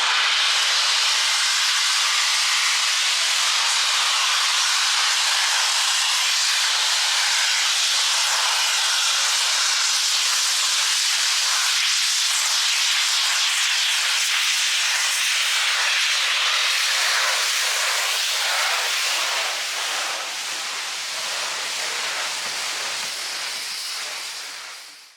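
A steam locomotive on the Swanage Railway vents steam in a loud, continuous broadband hiss that holds steady for about twenty seconds before tailing off.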